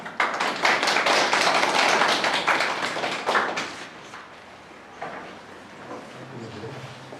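An audience claps loudly at a children's library reading contest in Sieroszewice; dense applause swells, then thins into scattered claps, with a few voices briefly heard.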